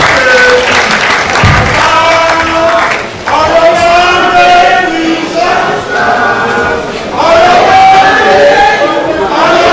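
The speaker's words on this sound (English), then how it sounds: "May I invite everybody to please stand up and with a clapping ovation recognize the minister." A standing clapping ovation for a minister at a training workshop in Ibadan, loud sustained applause from a large audience with voices and cheering woven through, dipping briefly midway before swelling again.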